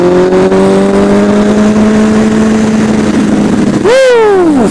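A superbike engine revs steadily through rising and falling tones, then blips sharply near the end with a quick rev and falling whine, loud and close throughout.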